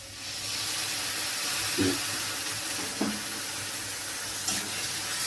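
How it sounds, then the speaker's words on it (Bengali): Milk poured into a pan of carrots fried in ghee gives a steady hiss and sizzle throughout, with a few soft stirring knocks standing out against the constant frying noise. "এবার আমি এতে দিয়ে দিচ্ছি এই 1/2 কাপ মতো দুধ আমি এতে দেবো।"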